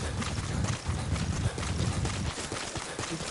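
Horse hooves clip-clop at a steady trotting rhythm in the Metal Gear Online game, close and fairly loud against a noisy background of in-game ambience.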